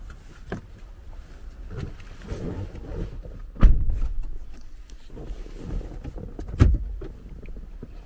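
Power seats in a 2021 LDV D90 hum quietly as their motors move, with a few soft thumps and clicks, all faint in a quiet cabin.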